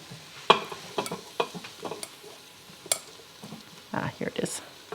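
Pieces of beef brisket drop into a pot and get stirred, giving a series of sharp scrapes, clinks and brief sizzling bursts with quiet gaps between them, heard up close.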